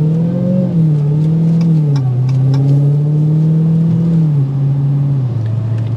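A 2023 Dodge Challenger Hellcat driven normally, its engine humming loud and close inside the cabin with a low steady drone that rises and falls gently as the car cruises.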